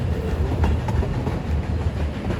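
Puffing Billy, a heritage steam train in Australia, runs along at a steady pace with a continuous low rumble and faint rhythmic wheel clatter, heard from on board at close range with no voices.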